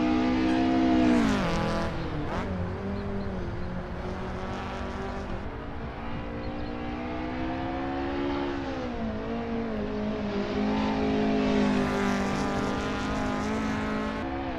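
Tuned Toyota AE86 engine running straight pipes in Assetto Corsa on the Nordschleife, a loud continuous raspy drone that rises and falls in pitch through revs and gear changes, with no talk.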